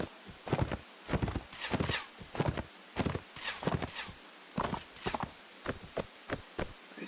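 Horse hooves clip-clopping in Mount and Blade Warband, a bandit forest fight, with a fast irregular run of loud, close hoof thuds and clatters separated by brief near-silent gaps.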